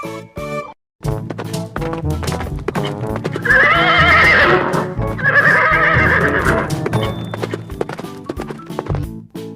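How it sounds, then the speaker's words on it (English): A horse neighs loudly in two long whinnies, over steady clip-clopping hooves and a backing musical rhythm. "H for horse"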